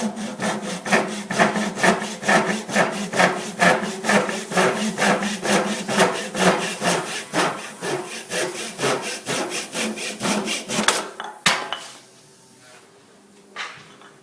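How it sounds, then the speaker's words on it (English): A back saw cuts through a glued wooden plug on a segmented turning, a steady quick rhythm of loud close rasping strokes that stops abruptly near the end, leaving quiet. "We're going to take this back saw and cut it off here and see what it looks like."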